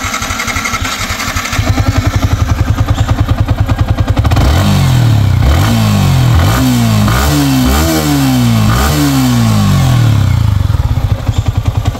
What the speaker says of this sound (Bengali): তো এখন দেখাবো বাইকটার সাউন্ড কন্ডিশন